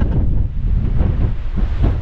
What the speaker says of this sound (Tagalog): Lakas ng hangin, di kakayanin ng drone natin dito.